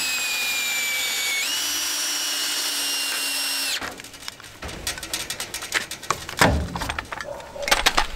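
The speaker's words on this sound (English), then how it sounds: "let's make sure we bolt this new joist into the frame so it doesn't go anywhere" A power tool drives a bolt to fix a new joist into a mobile home frame: a high whining spin that rises in pitch and runs for several seconds, then stops, followed by clattering knocks and handling noises.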